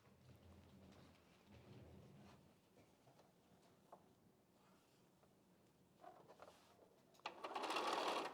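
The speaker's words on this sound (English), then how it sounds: "And I am sewing my strips that have 4 to the strips that have 6 on them." A sewing machine stitching quilt strips made from leftover fabric, a faint steady whir for most of the stretch, then a louder close burst of fast stitching near the end.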